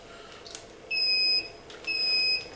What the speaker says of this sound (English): it's gonna keep beeping until I got these completely underwater